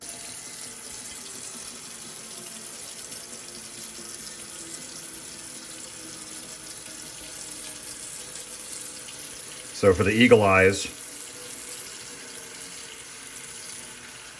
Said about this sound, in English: I need to add water inside the pan, so let's go do that real quick.